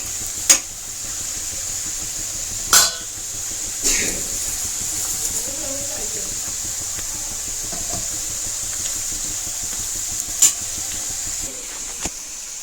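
Gentle, steady sizzle of besan laddoo dough balls frying in hot oil, punctuated by a few sharp clicks and light clatters, with no talk.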